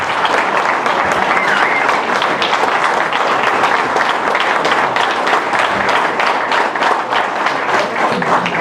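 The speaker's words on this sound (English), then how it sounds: "Give them another big round of applause for the wonderful team" Sustained, dense applause from a dinner audience saluting a service team, loud and steady with many hands clapping at once, briefly marked by a faint voice.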